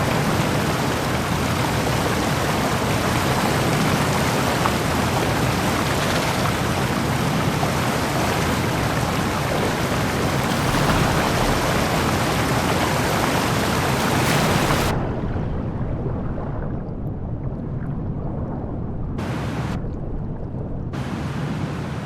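A waterfall in the dinosaur survival game The Isle roars as a loud, steady broadband rush of falling water for about fifteen seconds, then drops to a duller, quieter wash with abrupt cuts.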